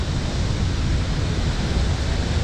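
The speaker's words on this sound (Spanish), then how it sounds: "Estamos en la cascada del Armadillo" The Armadillo waterfall roars as a dense, steady wash of broadband noise, loud and continuous throughout, with no voices over it.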